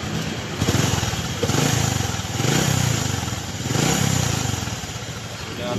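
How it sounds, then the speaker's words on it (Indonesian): Exhaust of a Honda Supra X 125 motorcycle with a tuned carburetor and an overbored engine, revving in repeated swells of roughly one-second bursts, close and loud, with a low idle between the pulses. "Knalpot."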